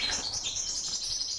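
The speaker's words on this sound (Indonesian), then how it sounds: "Burung pleci." An Oriental white-eye gives a quick series of high, thin chirps and twitters, close and clear over a quiet background for a brief moment.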